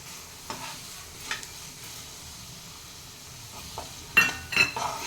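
Dried anchovies hit hot oil for a home-style nethili karuvadu thokku, giving a low steady sizzle with scattered scraping stirs and a louder burst of crackling spatter near the end.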